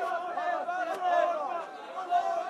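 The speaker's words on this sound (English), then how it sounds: "People are chanting over and over again" A protest crowd chants in unison, many voices blending into a loud, continuous rhythmic roar with swelling phrases, at moderate distance.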